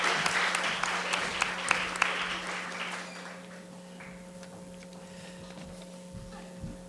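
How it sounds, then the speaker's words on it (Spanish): An audience at a journalism conference at Universidad Latina in San Pedro claps loudly at first, then the applause thins out and fades into a quiet room with a low hum and a few scattered claps. "Un aplauso, por favor, y gracias por habernos acompañado."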